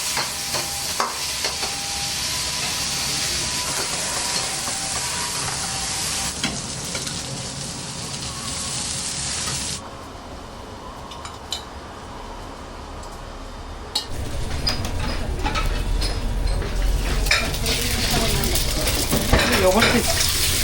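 Half yakisoba, half rice stir-fried on a hot griddle in a busy Hokkaido diner, with loud continuous sizzling, a brief quieter lull, then renewed frying with clinking spatulas.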